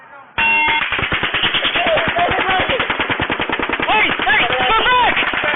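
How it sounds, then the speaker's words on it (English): Rapid automatic gunfire at a Las Vegas shooting rings out loud and sustained, a dense stream of shots in quick bursts with metallic pings, while people shout nearby throughout. "they're shooting right at us, guys"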